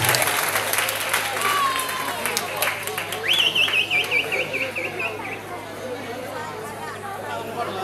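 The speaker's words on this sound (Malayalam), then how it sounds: "നടന കലാവേദി കൊഞ്ചനം കാട്ടൂരിന് നല്ല കയ്യടി നൽകൂ" A crowd at an Onamkali performance by a Keralan dance troupe at a temple festival claps steadily, a dense wash of applause mixed with chatter, with a brief whistle-like tone rising above it midway.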